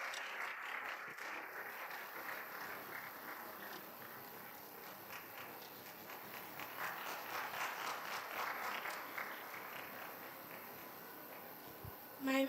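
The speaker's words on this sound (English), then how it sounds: "Let's keep clapping for them as they come with the message." Audience at a conference opening ceremony keeps applauding as children arrive, with continuous faint, distant clapping that swells and eases and carries on for a long stretch.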